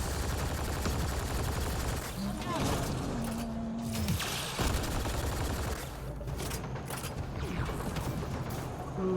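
Rapid gunfire in a Mass Effect Andromeda multiplayer match, dense bursts with mechanical clatter and ratcheting weapon sounds layered throughout, loud and continuous.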